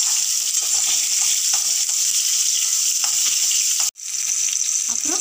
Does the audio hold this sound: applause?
no